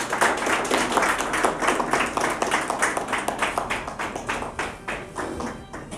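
An audience applauds an award recipient at a ceremony honoring brave young swimmers, a rhythmic run of many hands clapping, loud at first and gradually thinning toward the end.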